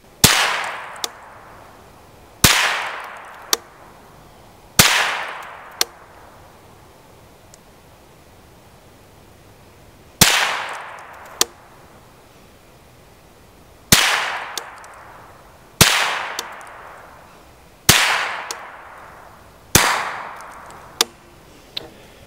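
Henry U.S. Survival AR-7 rifle fired at targets about 20 yards off with Winchester Wildcat bulk ammo; about a dozen sharp, loud shots come at uneven intervals, each with a short decaying echo.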